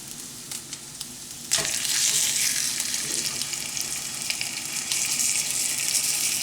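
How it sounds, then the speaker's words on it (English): A steak hits a hot pan with a sudden loud sizzle, then a steady close frying hiss continues, swelling slightly with occasional crackles. "I'm going to throw the steak in for 5 minutes on one side to get a super good sear on that side"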